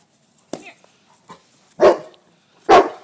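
Five-week-old Bull Mastiff puppies give a few small, separate barks and yips close by, growing louder, with quiet gaps between them.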